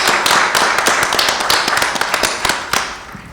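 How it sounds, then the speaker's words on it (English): Audience applause at a Brooklyn community event, honoring the Brooklyn Borough President: dense, steady clapping from a crowd, loud at first and tapering slightly, with a few sharper individual claps standing out. "round of applause"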